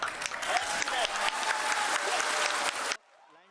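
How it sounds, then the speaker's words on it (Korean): Cheering and applause at India's Chandrayaan-3 moon landing: dense, loud clapping from a large crowd for about three seconds, then it cuts abruptly to near silence. "환호와 박수가 쏟아집니다"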